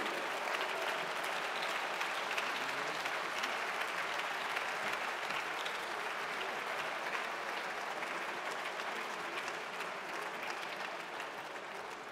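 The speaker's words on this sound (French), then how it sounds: "Voilà, on peut les applaudir." A large audience applauds young participants as they come up onto the stage at the closing plenary of a summer university, the clapping dense, steady and sustained throughout with no break.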